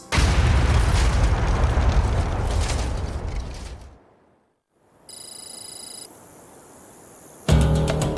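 A bomb detonates inside a decommissioned Boeing 747 during a 1997 bomb-resistance test, a loud, deep rumbling blast that fades over several seconds into silence before other abrupt sounds cut in.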